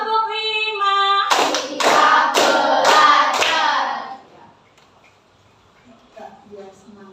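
A class of children claps hands in a quick rhythmic series of about five loud claps that ends abruptly, followed by a quiet pause and a bit of soft talk; a voice speaks before the clapping.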